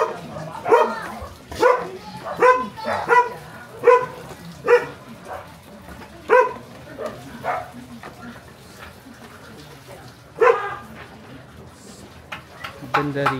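A dog barks repeatedly in short bursts, fairly close, with scattered quieter yips between, and a person's voice murmuring underneath.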